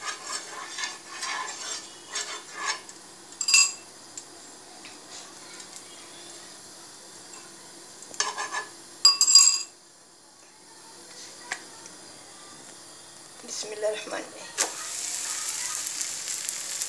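Oil sizzling on a hot tawa for aloo paratha, a soft steady hiss interrupted by clusters of sharp clinks and scrapes from utensils, rising into a fuller sizzle near the end.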